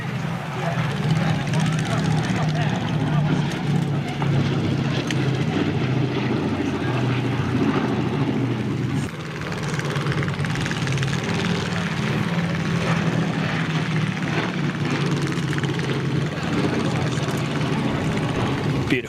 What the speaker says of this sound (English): aircraft.